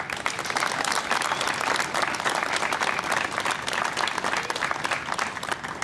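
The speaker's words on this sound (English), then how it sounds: "Let's give this a big round of applause." Loud, sustained applause from a large crowd at a school district event, dense and steady throughout with no gaps.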